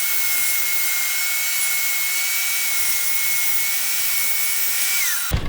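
Power saw running steadily as it cuts a wooden board in half for a DIY lap desk, a loud sustained whine that drops in pitch as the cut finishes.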